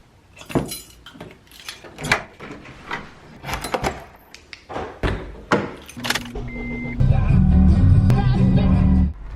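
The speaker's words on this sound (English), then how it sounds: "Sorry for slamming the door" A car door swings and slams shut amid a string of knocks, rattles and jangling keys at close range, followed by a car engine starting and running steadily.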